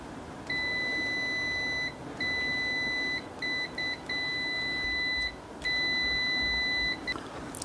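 A GEARWRENCH GWDM015 multimeter on continuity test gives several loud electronic beeps, each a steady high tone lasting about a second, with short gaps between them over a low background hiss.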